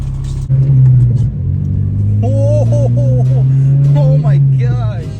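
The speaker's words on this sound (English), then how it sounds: "So now, yeah, now we're gonna go for a drive." An Acura RSX Type S with upgraded shifting drives along, its engine a loud, close, steady drone heard from inside the cabin that rises slightly and holds throughout.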